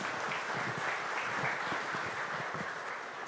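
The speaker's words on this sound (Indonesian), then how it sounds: "mari berikan tepuk tangan untuk kemuliaan Tuhan" A church congregation at an anniversary thanksgiving service applauds together, a dense, sustained wash of clapping throughout.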